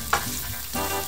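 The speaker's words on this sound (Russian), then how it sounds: "Пока овощи жарятся," Vegetables frying in a pan for a Japanese stir-fry dish, a steady close sizzle with a brief louder crackle near the start and a fresh burst of hissing toward the end, no voices.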